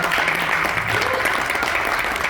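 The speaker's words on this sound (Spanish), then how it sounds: "para que pida un fuerte y sonoro aplauso" A live audience at a comic book presentation claps in a brief, dense burst of applause, a close crackle of many hands.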